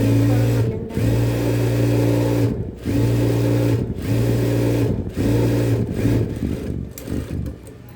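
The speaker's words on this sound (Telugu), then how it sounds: "ఇలా ప్రతిదీ కూడా మనం డబుల్ స్టిచ్ చేసుకోవాలండి." A sewing machine double-stitches fabric in several steady running bursts separated by short pauses, the motor hum loud and close with no talking.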